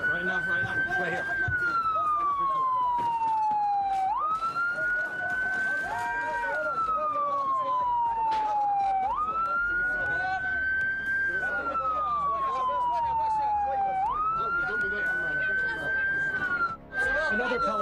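An ambulance siren wails through a long rising-and-falling cycle that repeats about four times, loud and close, over street noise and crowd sounds with voices talking.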